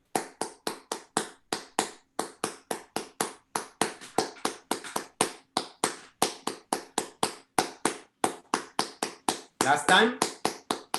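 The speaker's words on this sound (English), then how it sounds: "The first thing we're gonna learn from this dance is a clapping rhythm from the Chikumbe rhythm from Africa, Benin." Rhythmic hand clapping of the Chikumbe rhythm from Benin, crisp evenly spaced claps repeating in a steady pattern throughout, close and clear, with a brief burst of voices near the end.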